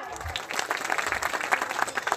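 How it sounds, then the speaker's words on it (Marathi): An audience applauds, a dense patter of many hands clapping at moderate distance, steady and fairly soft throughout. "त्यांच्यासाठी जोरदार टाळ्या"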